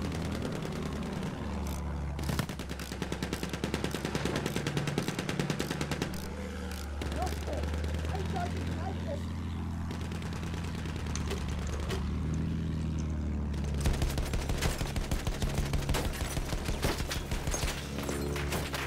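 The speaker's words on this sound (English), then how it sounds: "Yeah, behemoth machine gun." Sustained machine-gun fire from a behemoth in the video game Battlefield 1, loud and rapid with a brief lull midway before bursting hard again, under rumbling engine noise and occasional voices.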